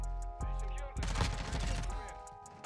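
Lachmann Sub (MP5) submachine gun in Modern Warfare 2 gameplay, with short rapid bursts of close, loud automatic fire and busy game noise mixed in.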